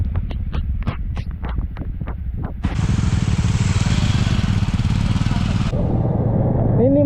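A motorcycle rides along a muddy off-road track near Kalasa, Chikmagalur, with a loud, close engine rush that swells into steady broadband roar after a run of sharp knocks and thuds, then drops away.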